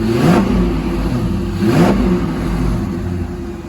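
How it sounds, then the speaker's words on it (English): A manual Corvette C5, a formerly abandoned non-runner just brought back to life after an ECU/PCM install, runs close and loud with two sharp revs rising over its steady engine note. "I'm happy to say that we've got it running"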